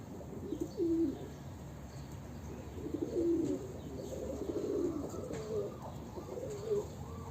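Breeding pigeons coo inside a coop, soft repeated rolling calls from several birds rising in short phrases over a steady low background hum.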